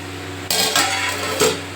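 A plate settles onto a metal pot of fish curry with a clattering clink, followed by a second lighter knock, against a steady low kitchen hum.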